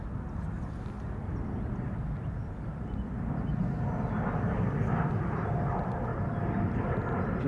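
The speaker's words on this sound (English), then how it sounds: "taking off from center to Nairobi. KLM 565 7879 Dreamliner." A KLM Boeing 787-9 Dreamliner, flight 565 to Nairobi, takes off from Schiphol's center runway. It gives a distant, steady low roar that builds gently with faint wind-like hiss.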